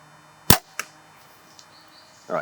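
An archery bow is drawn back with the arrow dragging across its rest, then loosed in a sharp, close release, followed by a softer tick and, after a quiet gap, a brief rasping hit.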